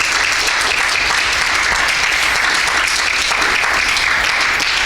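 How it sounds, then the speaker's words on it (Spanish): A church congregation at a Spanish-language service claps loudly for the Lord, a thick, even, continuous roar of many hands filling the hall without a break. "Denle un aplauso fuerte al Señor."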